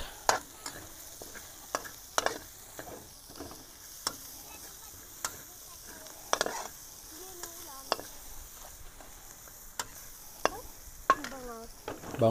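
Red onion sizzling in a pan with browning garlic during outdoor cooking, a steady close frying hiss broken by repeated sharp spatula scrapes and stirs, with bird chirps faintly behind.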